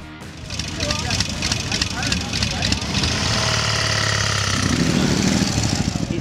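Several vintage British motorcycles idle at a ride-out gathering, a steady loud engine rumble running throughout, with people talking in the background.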